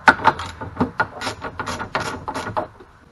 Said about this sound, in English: You pull this bolt out of your way and this cover will be ready to come off.